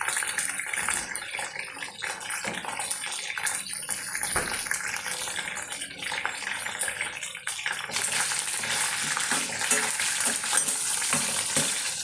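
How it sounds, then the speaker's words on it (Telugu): Fresh mint leaves fry in hot oil for a Telugu chicken pulihora, giving a steady, close hiss and crackle with some stirring that grows denser and louder in the second half; no one speaks. "పుదీనా బాగా ఫ్రై కావాలి, మంచిగా పచ్చి ఉండకుండా ఫ్రై కావాలి పుదీనా."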